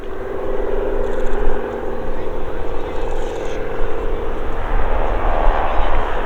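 A wingwalker display aircraft trails smoke as it flies toward the crowd at the Old Buckenham Airshow, giving a loud, steady engine drone that swells slightly as it nears, with a voice faintly present underneath.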